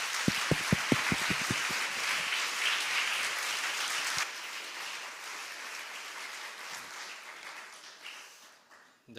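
A Korean church congregation claps at a mission send-off service, opening with several sharp rhythmic claps that merge into dense, sustained applause, which then slowly tapers off.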